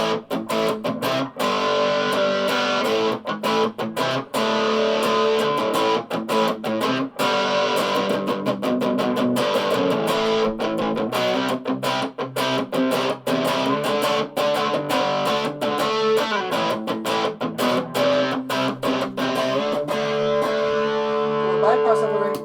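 Electric guitar played through a Peavey Rage 158 practice amp with the reverb on, a sustained distorted chord pattern with steady rhythmic strums filling the whole stretch at constant loudness.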